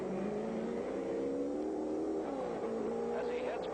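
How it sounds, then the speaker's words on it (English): A racing car engine at the 1964 Nassau Trophy on the Oakes Field course drones steadily at a distance as it pulls away from a pit stop, with a commentator talking over it. "as Bruce had a little trouble getting the engine started."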